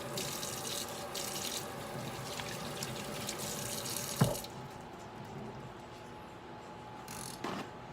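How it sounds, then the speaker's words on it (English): Hot tap water runs steadily into a sink while hands are soaped and washed, a continuous broadband rush with a brief knock partway through and a fainter splash near the end. "wash hands, soap them up"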